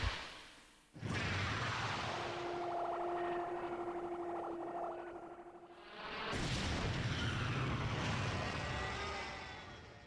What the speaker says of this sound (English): You've collected all the MacGuffins, activating the wave cannon.